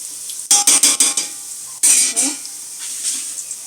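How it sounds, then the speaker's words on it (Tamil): Onions for chicken biryani are stirred in a hot pan in a quick burst of close, loud spatula scrapes and sizzle, then a second stirring pass, with a faint hiss trailing off. "வெங்காயம் அந்தளவுக்கு வதக்கி விடணும்"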